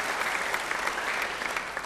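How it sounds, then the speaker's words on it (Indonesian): Church congregation clapping during a worship service, a full, continuous patter of hands from many people at a steady level, with no voices. "Yang percaya beri tepuk tangan yang baik bagi dia."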